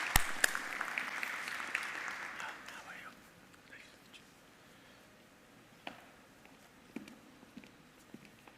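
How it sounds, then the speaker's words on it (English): Brief applause for a moderator and panelists at an energy conference panel, a short burst of clapping that quickly dies away, leaving a quiet room with scattered soft thumps and a few isolated claps. "A round of applause, please, for our moderator and the panelists."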